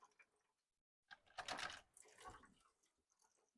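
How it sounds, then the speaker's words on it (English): Water drains out of a Keurig coffee machine into a pan, starting with faint drips, then a loud splashing gush that tapers off to scattered trickles. "I'm just letting the water drain out into a pan instead of on my floor."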